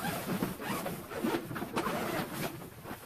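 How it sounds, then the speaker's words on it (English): A grow tent's zipper is pulled in quick, scratchy bursts, close and fairly soft, with short pauses between strokes. "The zipper is pretty good."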